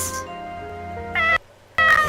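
A cat meows in the video game Corpse Party: Book of Shadows, two short clear meows in quick succession over a quiet sustained musical background.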